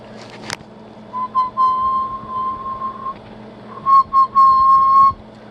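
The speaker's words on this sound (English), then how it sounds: "I'm not good at whistling" Someone whistles into the microphone of a Johnson 500 transmitter to test carrier modulation, giving two sustained steady whistled tones, the second louder and broken into short bursts before a long held note, over a low hum.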